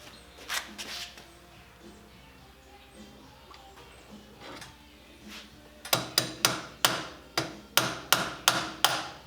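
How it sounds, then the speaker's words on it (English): Soft clicks and shuffling, then about eight sharp metallic hammer taps in a steady, even rhythm, close by and fairly loud, tapping a part into place during a vehicle front lift install. "I had to tap it in with the hammer to get it to drop"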